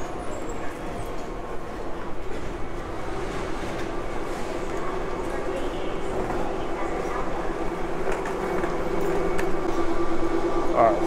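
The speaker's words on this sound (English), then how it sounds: "Train has arrived." An airport people-mover train at Atlanta Airport arrives in a steady rumbling hum that slowly grows louder, with a faint high whine and brief ticking near the end.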